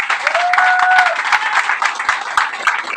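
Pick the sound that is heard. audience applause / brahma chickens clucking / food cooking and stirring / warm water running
audience applause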